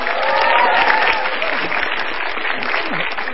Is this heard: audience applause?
yes